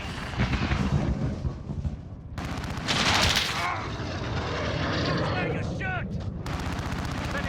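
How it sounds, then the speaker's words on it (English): A Call of Duty: Modern Warfare UAV flyover gives a dense, loud roar of aircraft engine noise mixed with gunfire-like bursts and whooshing sweeps, with radio-style voices talking throughout. "We've got a UAV on station, ready for flyover."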